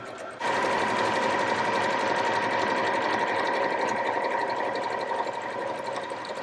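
An Elna 570A sewing machine running at about half speed gives a steady, smooth mechanical whir with a continuous stitching rhythm, close and loud. It starts abruptly after a brief moment and holds evenly to the end with no talking.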